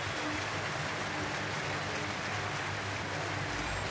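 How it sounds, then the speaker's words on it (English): A baseball crowd gives Mike Leake a standing ovation at a Dodgers–Reds game in Cincinnati: steady, dense applause and cheering from a large stadium, even and unbroken throughout. "Standing ovation for Mike Leake."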